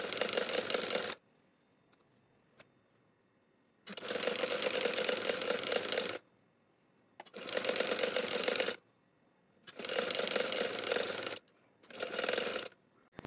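A sewing machine stitches a baby frock in five bursts of fast, even whirring, each lasting a couple of seconds and separated by quiet pauses while the fabric is turned.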